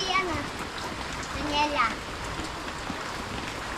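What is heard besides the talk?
heavy rain pouring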